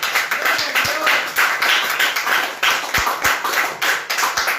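A church congregation claps in unison, loud and close, with a steady rhythmic beat of sharp hand claps repeating through the whole stretch and no voices over it.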